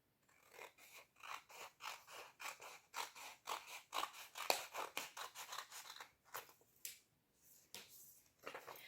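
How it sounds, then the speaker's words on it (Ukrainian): Scissors slice red, yellow and green paper into strips, a quiet, close series of crisp snipping cuts in quick rhythmic bursts with brief pauses between runs. "нарізаємо смужки."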